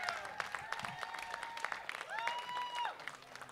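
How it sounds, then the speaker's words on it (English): An audience applauding at the grand opening of Levitt Pavilion in Denver, a fairly faint, distant patter of clapping with crowd murmur and voices mixed in. "A big round of applause for Chris"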